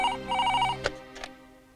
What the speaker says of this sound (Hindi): आपके लिए फोन।